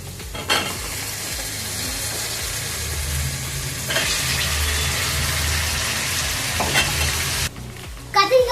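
Brinjal sautéing in a pan for dry fish curry, a steady broadband sizzle with stirring scrapes throughout, swelling louder midway and briefly dipping near the end, with no talk.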